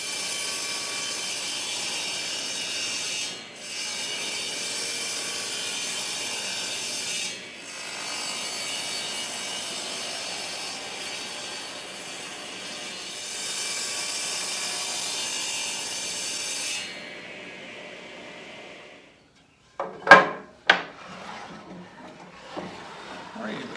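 Oak table legs being sawn to length in a woodworking shop: a long, steady rasping saw sound runs for about seventeen seconds with brief pauses, then stops, followed by a few sharp knocks and clatters.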